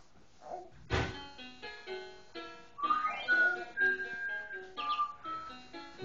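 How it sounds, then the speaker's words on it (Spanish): A child plays a piano with uneven, irregular notes, some struck hard and some held, ringing out close by without talk. "Mira cómo toca el piano."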